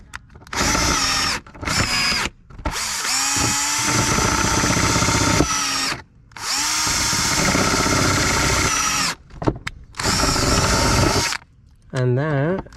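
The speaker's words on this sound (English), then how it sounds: "All right, so we are drilling out." A handheld power drill drills out a damaged bolt in bursts of loud, close whining, several long runs separated by short pauses, with a brief voice at the end.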